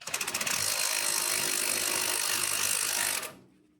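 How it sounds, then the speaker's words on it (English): A wrench ratcheting on a suspension nut of a Suzuki Jimny during a lift kit install: a few quick clicks, then a loud, sustained grinding rasp that cuts off abruptly after about three seconds. "Using a wrench to hold the bottom nut helped me break the top one loose."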